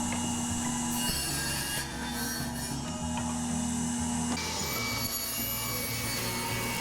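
Radial arm saw cutting strips of walnut, maple and cherry to length for an end grain cutting board: a loud, continuous whine and rasp of blade through wood, close up, steady throughout with a shift in tone partway.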